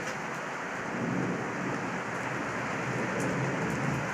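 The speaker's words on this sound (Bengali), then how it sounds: "দেখুন কত কত কত জোরে বৃষ্টি হচ্ছে দেখুন বৃষ্টি পড়ছে" Heavy rain pouring steadily at night during a thunderstorm, a dense even hiss with low rumbling thunder underneath, heard outdoors with no talking.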